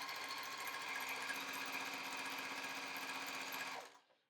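A sewing machine chain piecing half square triangles for a quilt runs at a steady fast clatter for nearly four seconds, close and continuous, then stops abruptly.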